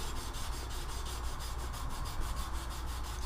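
A knife blade is hand sanded with 320 grit paper in a steady run of quick rhythmic rubbing strokes, close and moderately quiet, with no voices.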